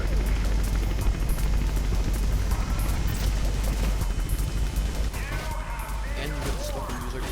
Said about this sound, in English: You can hear the fucking, like, police helicopter screaming at you.